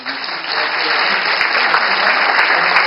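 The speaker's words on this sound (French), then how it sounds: "On va les applaudir encore, ça fait du bien de les applaudir." An audience claps at a commemoration of the insurrection in Corsica, steady and loud applause that rises quickly and holds evenly for a few seconds.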